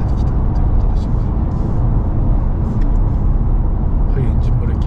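A car cruises along a Tokyo surface road while engine braking, with a steady, loud low road and engine rumble and passing traffic running throughout, under a voice.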